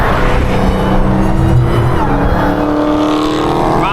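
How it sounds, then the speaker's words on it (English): Another supercharged car flies by at night with a loud, rising whine over heavy engine roar from a hoodless Dodge Hellcat, tones shifting quickly as it passes close. "I love hearing another whine that's not mine fly by."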